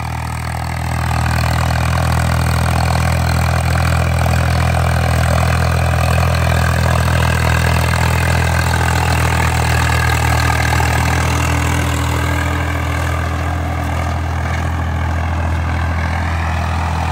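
A Swaraj 855 FE tractor engine runs steadily close by, a deep continuous diesel drone with a throbbing low rumble that holds at an even level throughout, with no voices over it.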